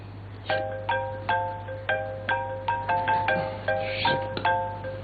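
Phone ringtone from an incoming call, a repeating pattern of bright electronic chimes ringing about a dozen times at a steady pace over a low background hum, with no talking.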